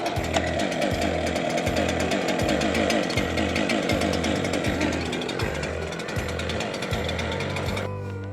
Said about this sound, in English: Once you get the saw started